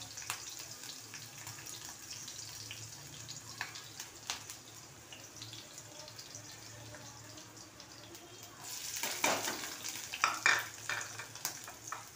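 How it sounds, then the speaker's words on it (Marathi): Garlic and chillies fry in oil in a pan, a faint steady sizzle with occasional light stirring taps, swelling into a louder crackling burst toward the end. "आता याच्यामध्ये लसूण टाकायचा, मिरची टाकायची"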